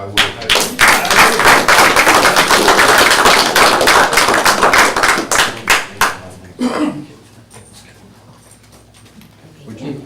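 Applause for a police officer at a trustees meeting: a dense, steady burst of many hands clapping close by for about six seconds, then breaking off into a quieter room with faint murmuring.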